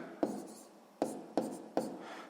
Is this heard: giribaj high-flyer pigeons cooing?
no